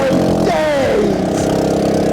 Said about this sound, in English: So I changed the old exhaust manifold to a new 4-to-1 catless one, and it was safe to say the car was very loud.